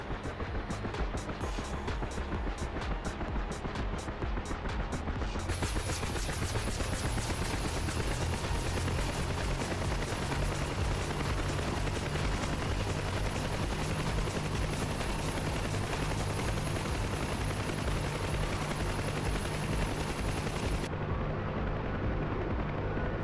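A simulated aircraft engine in a flight sim game spooling up as the throttle opens, a loud sustained roar with a high steady whine joining after a few seconds and dropping away near the end.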